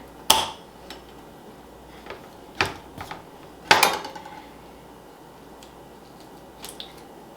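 Knife working through an apple core while coring apples in a cooking lesson: a few sharp, isolated cracks and clicks, close and fairly loud, spaced a second or so apart over quiet room tone.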